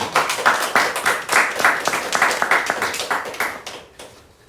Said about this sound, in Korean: 우리 큰 박수로 우리 패트릭 라잉톤 선생님.